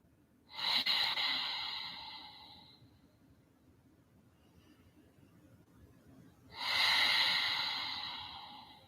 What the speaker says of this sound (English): you can have an Ujjayi samavriti breath where you're breathing in to the count of 5, 6, or 7, breathing out to the count of 5, 6, or 7